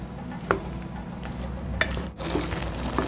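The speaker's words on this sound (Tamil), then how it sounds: "நல்லா வதங்கிட்டு தக்காளியும் புளியும் நல்லா வதங்கிட்டு" Tomatoes and tamarind sautéing in a pan for a tomato pickle, a soft steady sizzle with a few sharp stirring clicks and scrapes of a utensil, quiet and close, no talking.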